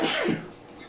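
A single sharp sneeze, loud and close, bursting out then trailing off quickly.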